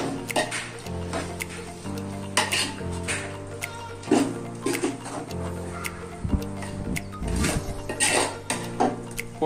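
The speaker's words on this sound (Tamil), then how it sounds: "போட்டு நல்லா கிளறி விடுங்க" Vegetables and ground coconut for aviyal, a South Indian dish, are stirred in a metal cooking pot in a home kitchen, with repeated close clanks and scrapes of the utensil against the pot at an uneven rhythm.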